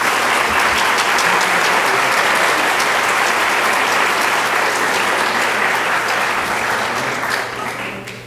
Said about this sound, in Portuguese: Convidamos a todos para novamente saudá-lo com uma salva de palmas.